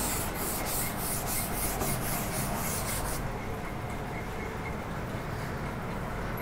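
Written equations on a board are rubbed out with steady, continuous scrubbing strokes. The dense abrasive friction stays loud and close throughout, with a faint rhythmic swishing early on and no speech.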